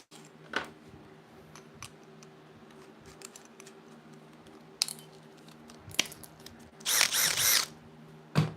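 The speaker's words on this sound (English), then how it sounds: "We're just going to drill it out" A power drill bores into a shuttle bus electrical fitting in short, quiet bursts, with a louder, sustained whirring run near the end amid soft handling clicks.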